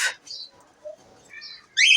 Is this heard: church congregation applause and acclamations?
no